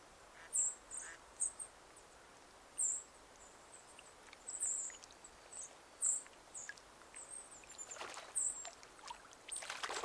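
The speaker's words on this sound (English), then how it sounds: "The 3 wood ducklings became juveniles in perfect health." Three juvenile wood ducks give short, high, repeated calls in scattered bursts over a steady outdoor background hiss, fairly faint and distant.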